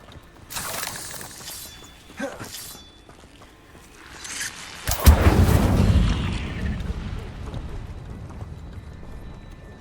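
The Incendio fire spell cast in Hogwarts Legacy, heard as a sharp crackling whoosh that swells into a rushing roar of flame and slowly fades, with a few lighter magical swishes before it.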